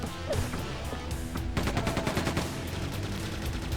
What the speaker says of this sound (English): we're going to whip out the chain gun for this part